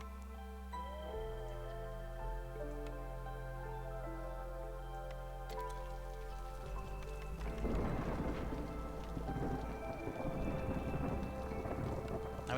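Rain and a thunderstorm in the video game Against the Storm, with steady rainfall under a sustained musical drone, building to a louder, crackling rush of storm noise in the second half.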